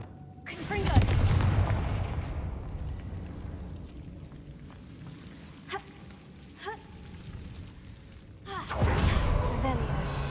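A Confringo blasting spell erupts in the Hogwarts Legacy game, a loud booming burst near the start followed by crackling debris and a fading rumble, with a second heavy blast near the end.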